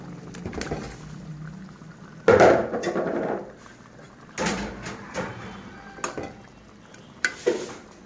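Fish pieces dropped into a pot of simmering tomato curry, bringing a sudden loud sizzle and splashing bursts, then a quieter bubbling between further clatters of the spoon and pot.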